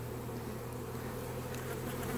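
Honeybees swarm around a hive in a close, dense, continuous buzzing drone with no voices.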